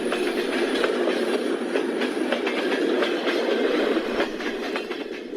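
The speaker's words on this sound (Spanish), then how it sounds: "Los trenes seguían pasando, pero las paredes ya no vibraban" A train rolls past on a railway line, its wheels beating out a loud, continuous clickety-clack rhythm close by, with no talking.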